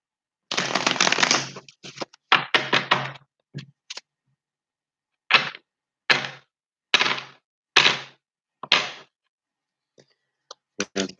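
A deck of reading cards is shuffled, with a long riffling burst, several short riffles, then a series of separate bursts, each a crisp papery flutter that is close and clear, with no talk.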